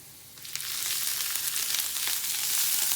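Spinach and garlic sautéing in a hot pan, a bright steady sizzle that swells loudly once the greens go in and keeps hissing as they are stirred.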